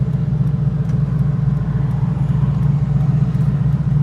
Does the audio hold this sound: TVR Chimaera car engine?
yes